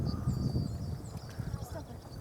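A horse walks slowly forward in a session near St Andrews, Fife, with soft, faint hoof steps under low background noise and a voice speaking quietly.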